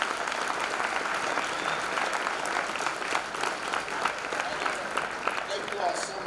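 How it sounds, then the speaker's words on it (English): An audience at a school assembly gives a sustained round of applause, even and continuous for about six seconds, heard from a moderate distance with faint voices mixed in. "Please give yourselves a round of applause for sticking through"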